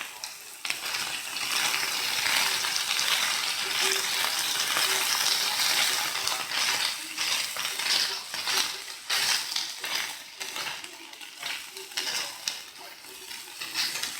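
Vegetables sizzle and fry steadily in a hot pan as part of a Korean BBQ beef dish cooked in a truck, with a continuous loud hiss and occasional stirring clatter.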